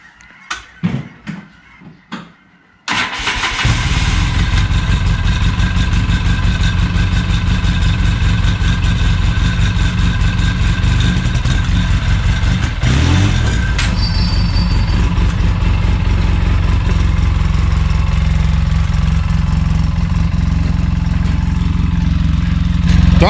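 A Polaris RZR side-by-side engine, fitted with hand controls, catches after a few short cranking sputters and settles into a loud, steady close idle that holds for the rest of the stretch, with a brief throttle blip midway.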